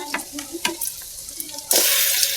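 Garlic and onions fry in oil for beef tripe bhuna, with soft stirring scrapes and taps, then a sudden burst of loud sizzling near the end.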